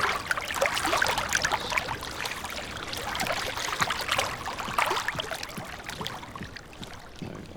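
River or lake water in game audio flows with a steady rushing, splashing texture at moderate level, continuous and close, with no talk over it.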